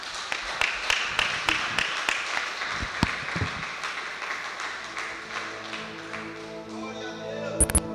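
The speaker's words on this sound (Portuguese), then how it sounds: "As palmas louvam o Senhor." A worshipping church congregation claps in rhythm with steady sharp claps, with voices underneath and a sustained musical tone swelling toward the end.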